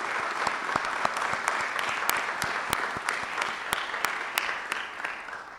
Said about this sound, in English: Let's give the Emergency Center a round of applause.